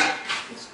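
A metal baking pan for baked macaroni and cheese is set down in a kitchen with a short, close clank and rattle, heard alone.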